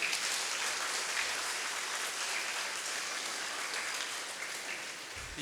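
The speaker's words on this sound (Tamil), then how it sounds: "முதல்ல இந்த பெற்றோருக்கும் 2 குழந்தைகளுக்கும் நல்ல ஒரு பலத்த கரகோஷம் கொடுக்கலாம்" A hall full of people at a felicitation event gives a strong round of applause for parents and two children, a steady, fairly distant wash of clapping with no voices over it.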